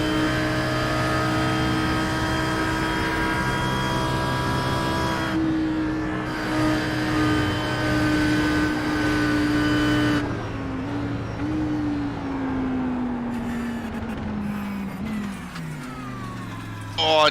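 A GT3 race car on a hot lap at Phillip Island in iRacing, its engine droning loud and steady with rising and falling pitch through gear changes, no talk over it.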